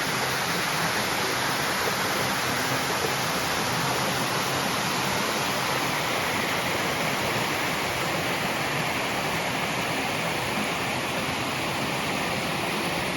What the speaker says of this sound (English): The trail's been pretty much following this creek for I don't know how long.